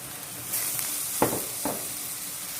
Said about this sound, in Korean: 이렇게 해서 또 미역을 다글다글다글다글 볶아주세요.